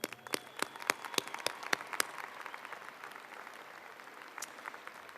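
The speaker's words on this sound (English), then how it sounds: "Let's applaud Kelly" A commencement audience at the University of Idaho applauds: scattered sharp claps ring out near the start, then settle into a softer, steady wash of clapping that fades slightly over about five seconds.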